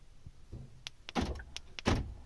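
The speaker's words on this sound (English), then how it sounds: "Press once and you'll hear the driver's door." Several short mechanical clunks and whirs as the central locking of a Ford car unlocks the driver's door, close and sharp, with no talk.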